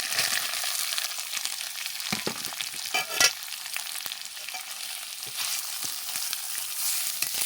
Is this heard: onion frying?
yes